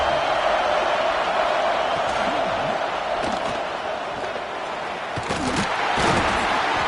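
A football stadium crowd during a college game on a 3rd-and-goal defensive stand, a steady loud roar of many voices that swells and dips, with a voice talking over it.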